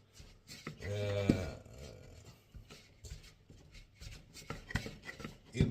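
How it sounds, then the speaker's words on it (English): Spoon stirring flour into a loose egg dough in a bowl for Hungarian green pea soup, soft scraping and rubbing strokes in an uneven rhythm, close and quiet, with a brief voice early on. "now I'm gonna work it in with my spoon like this"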